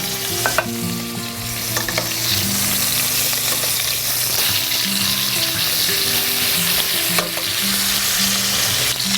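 Meat browning in a hot pan for a Sunday sauce of sausage, meatballs and pork chops: a steady close sizzle broken by spoon or spatula scrapes and stirring clatter.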